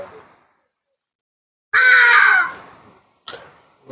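A South African hadeda ibis letting out a loud, harsh screaming call in the background, one long raucous burst followed by a shorter cry, with quiet gaps between.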